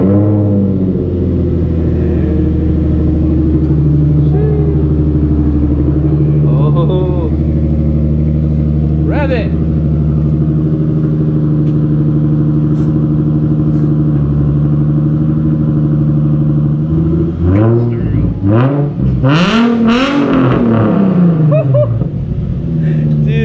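A Nissan 350Z HR with a full titanium Tomei exhaust is started, then idles with a loud, steady drone and rises into sharp revving near the end, with voices talking over it.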